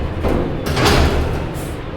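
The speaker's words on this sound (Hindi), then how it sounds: "ये बाहर का दरवाज़ा बंद करो" An outside door is shut with a muffled thud and a brief rattle, heard over a steady background hum.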